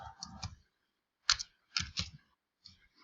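Short bursts of keyboard typing, clustered keystroke clicks separated by brief pauses, close and fairly quiet.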